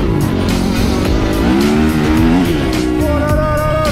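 A Yamaha YZF 250 motorcycle races past at speed, its engine screaming loud and close with rising and falling revs over a few seconds.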